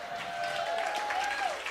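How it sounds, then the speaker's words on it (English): A crowd at a live music show applauds in a continuous hiss of many distant hands, with a faint held tone ringing underneath through the short stretch. "One more round of applause."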